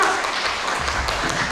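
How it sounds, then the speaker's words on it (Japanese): Audience at a Japanese documentary film festival screening applauds a film director after a post-screening talk, a steady wash of clapping throughout. "それでは村田英一監督に大きな拍手をお送りください。"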